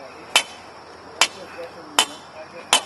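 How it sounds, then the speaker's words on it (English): Four sharp hammer blows, evenly spaced under a second apart, driving long stakes to brace a concrete bond beam wall on a house build in Cincinnati, with faint outdoor site noise between strikes. "occasionally we're just putting in long stakes"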